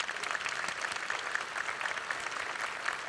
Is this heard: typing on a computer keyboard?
no